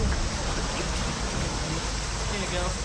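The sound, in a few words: water flowing in a rocky creek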